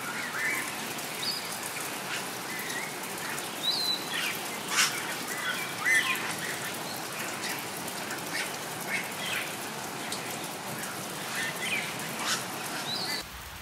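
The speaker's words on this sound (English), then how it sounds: "By early afternoon, the rain began to subside," Steady rain falls at Iguacu Falls, a soft continuous patter on surfaces, with faint bird chirps breaking through now and then.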